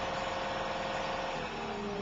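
The diesel engine of a Toro Groundsmaster 4000-D rotary mower runs steadily, a loud, close, continuous rumble with a broadband vibrating drone and no change in speed or pauses.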